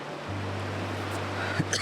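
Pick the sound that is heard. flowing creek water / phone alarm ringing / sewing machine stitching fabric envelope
flowing creek water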